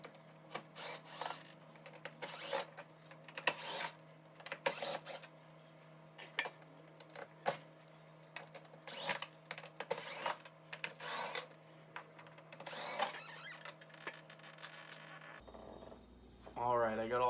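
Screws being backed out of a dishwasher door faceplate with a powered driver, bursts of whirring repeating in short spurts with faint clicks between them, close up and fairly quiet, ending with a brief clatter.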